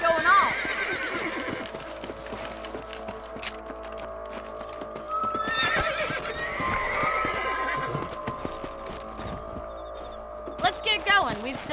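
Horses neighing and whinnying with clip-clopping hooves in the video game Red Dead Redemption, several loud whinnies over steady hoofbeats and background hum.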